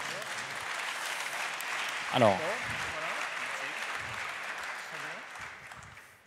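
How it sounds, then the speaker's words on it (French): Audience applause at an awards ceremony, a dense continuous patter of clapping that carries on throughout while someone speaks over it. "je vous demande d'applaudir"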